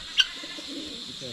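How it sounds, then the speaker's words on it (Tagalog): A pigeon gives a soft, low coo against steady background hiss, with a brief faint chirp near the start; quiet and close. "Yung kalapate."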